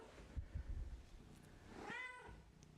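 A cat stuck in a ceiling lets out a single drawn-out meow near the end, preceded by a few dull thumps and rustles in a quiet room.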